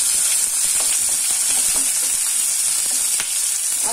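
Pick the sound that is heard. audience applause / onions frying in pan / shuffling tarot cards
onions frying in pan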